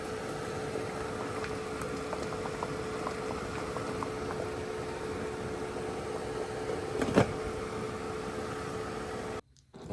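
Water heats in a large pot for a Ukrainian military ration main course, producing a steady, even boiling hiss and bubbling throughout with a brief sharp knock near the end before it cuts off.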